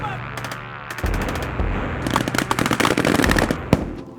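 Infantry machine gun fire sends rounds downrange in rapid cracking bursts, loud and close, with some background voices mixed in.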